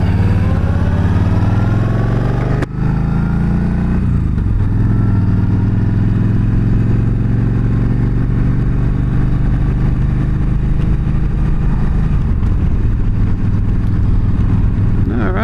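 A motorcycle engine revs hard and steadily inside a tunnel while a child rides along as passenger, loud and close with a continuous droning roar and some wind buffeting throughout.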